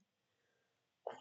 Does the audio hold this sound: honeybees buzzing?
no